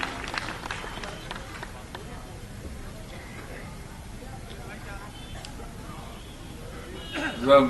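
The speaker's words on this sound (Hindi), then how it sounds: "एक बार जोरदार ताली बजाकर हरदीप पुरी जी का अभिनंदन करें" A crowd at a BJP political rally welcomes Union minister Hardeep Puri with steady, dense applause, a continuous crackle that holds throughout and swells near the end, with a voice talking over it.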